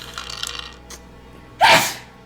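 A single sharp sneeze bursts out near the end, close and loud, after a few quieter rustles and breaths in a room.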